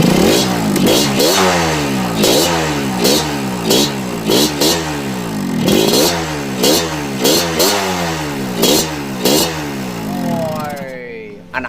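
A Yamaha RX King two-stroke motorcycle engine revs hard over and over in close, loud, rhythmic bursts, each rising and falling, before cutting off near the end; no speech over it.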